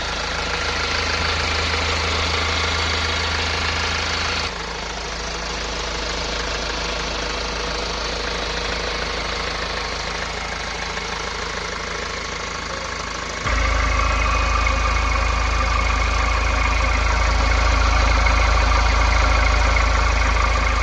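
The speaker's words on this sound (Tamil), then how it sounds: "ஃப்ரெண்ட்ஸ் இந்த Xylo இன்ஜினை பார்த்தீங்கன்னா நான் ஸ்டார்ட் பண்ணிட்டேன்" A Mahindra Xylo engine idles steadily after an air filter change, giving a continuous close mechanical hum with a faint knock and a brief step up in loudness partway through.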